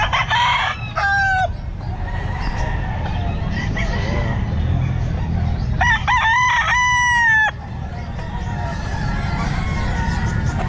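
Several young bull stag roosters crow in short, rough, unfinished calls against a steady noisy background at a pet market, some close, others farther off.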